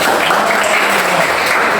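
A classroom of students claps together, a dense and loud burst of applause that holds steady for the whole two seconds.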